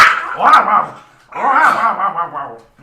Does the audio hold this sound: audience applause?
no